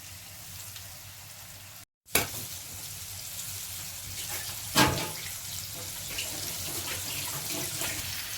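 A rice-flour-coated pomfret fries on a hot tawa, giving a continuous close hiss that briefly cuts out, then resumes with a sharp burst as the fish hits the pan, plus another louder spit midway.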